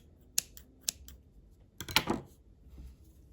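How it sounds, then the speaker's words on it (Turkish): Scissors snipping yarn during crochet of a star motif, with two sharp isolated clicks and then a louder crunchy cut, close and quiet with no speech. "Artık ipimizi değiştirebiliriz. Kesiyorum."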